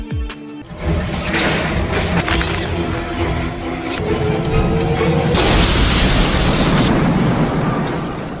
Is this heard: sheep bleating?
no